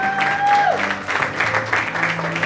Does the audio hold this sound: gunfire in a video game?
no